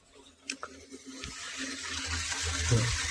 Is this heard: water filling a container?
yes